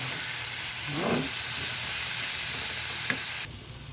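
Shrimp paste frying with garlic in a pan gives a continuous close sizzle and hiss, broken by a couple of short scraping stirs, then drops suddenly to a quieter background.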